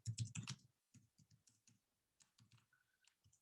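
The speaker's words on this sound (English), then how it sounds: "I'll type that in." Keys clicking on a computer keyboard in short irregular bursts, quiet and close, with brief pauses between clusters of keystrokes and no talking.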